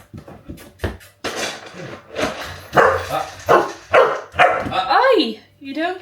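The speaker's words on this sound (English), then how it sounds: "You don't get your food with your shouting and barking." Puppies bark and yip excitedly at feeding time, a run of sharp close barks and whimpers broken by bursts of talking and a higher excited voice.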